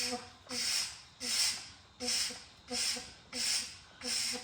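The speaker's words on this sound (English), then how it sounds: "I'm gonna start the suction and see if we get it going." A suction pump draws differential fluid out of a 2004 Lincoln Town Car's differential, giving a regular series of about six hissing, gurgling pulls, each lasting roughly half a second, close to the microphone.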